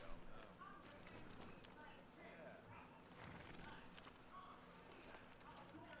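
Hoofbeats of a horse in the video game Red Dead Redemption 2, an even clip-clop running throughout at moderate level beneath faint background game ambience.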